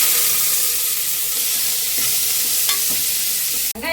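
Green chilies and onion are dropped into hot oil for a vegetable pulao, producing a loud, dense, close-up sizzle that continues steadily before cutting off abruptly with a brief clatter at the end.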